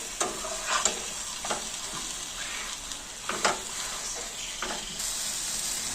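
Ridge gourd fritters frying on low flame in a pan, a steady close hiss and sizzle with occasional stirring or turning scrapes and small pops.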